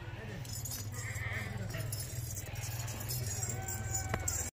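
Goats bleat amid a busy farmyard, with a doe and her two kids among dairy goats; the calls are intermittent and mid-distance over steady background noise, with voices talking throughout.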